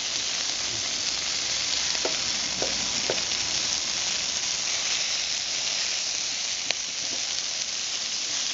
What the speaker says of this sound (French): Commence à être bien cuite et donc on y dépose les poivrons